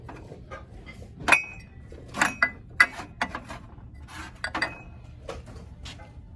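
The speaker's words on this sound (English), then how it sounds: "This is cut glass, not crystal, but it is a cute little holiday dish." A small cut-glass holiday dish clinks and rattles as it is handled in a thrift store, with several bright, close, irregular clinks and scrapes.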